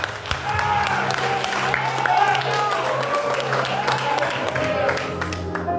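A church congregation applauding during an evening worship service, steady broad applause mixed with voices and crowd noise throughout.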